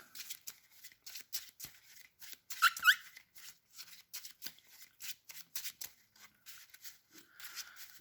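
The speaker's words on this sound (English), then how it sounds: "I don't know why I'm shuffling" Playing cards from a Yu-Gi-Oh Cyberdark End Dragon deck are shuffled by hand in quick, soft, repeated riffling flicks, close and quiet, with no talking.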